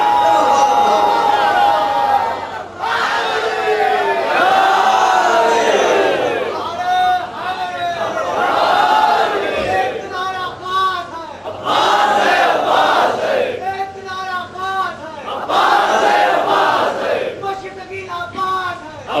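At a Jashn-e-Maulood-e-Kaba religious gathering in Lucknow, a large crowd chants slogans in loud, rhythmic bursts that answer a leading voice. Short pauses separate the repeated calls.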